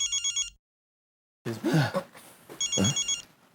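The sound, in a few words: mobile phone ringing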